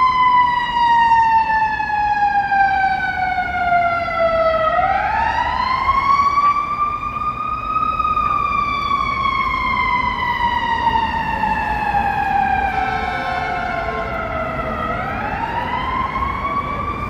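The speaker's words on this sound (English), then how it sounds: "Here comes an ambulance here." An ambulance siren wails past on a Chicago street, its pitch sweeping down and up in long repeating cycles, loud and steady throughout with a low rumble of traffic underneath.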